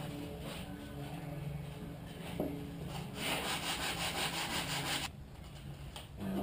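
Steady back-and-forth sanding on a wooden hope chest piece, a continuous scratchy rubbing at close range with a few brief pauses in the strokes and no talking.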